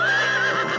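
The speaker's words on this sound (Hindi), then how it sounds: "ओए सुल्तान शेख अजीबुद्दीन का घोड़ा था।" A cartoon horse lets out a single loud whinny, a short wavering neigh heard close and alone without speech.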